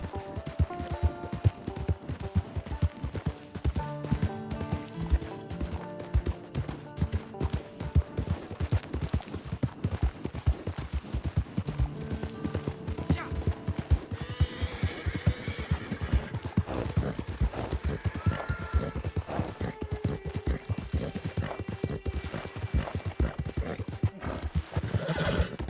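A horse in Red Dead Redemption 2 gallops in a fast, steady clip-clop of hooves, loud and close, with whinnies breaking through and bursts of distant gunfire partway along.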